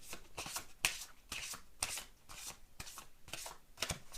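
Tarot cards being shuffled by hand, a steady run of crisp riffling bursts and soft slaps repeating about twice a second, close and clear with no talking.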